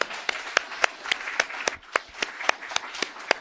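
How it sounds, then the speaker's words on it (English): Sparse round of applause at a men's one-day event, a small number of distinct, spaced hand claps ringing out in a loose, uneven rhythm against a quiet room. "Give yourselves a round of applause"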